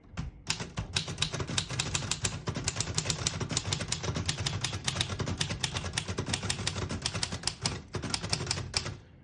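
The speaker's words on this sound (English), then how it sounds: "Beautiful typing machine." Rapid, continuous clacking of a 1930 Royal P Model portable manual typewriter, close and steady, with brief pauses and a bell-like ding near the start.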